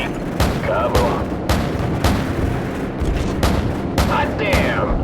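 AC130 gunship cannon fire in the video game Call of Duty 4: heavy booming shots land roughly every half second, loud and close, with radio chatter faintly between the blasts.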